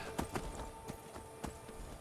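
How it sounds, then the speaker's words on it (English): Horse hooves clip-clopping at an easy pace while riding in the video game Skyrim, a few distinct hoofbeats over ambient game sound, no voices. "I know you do use your legs when riding a horse"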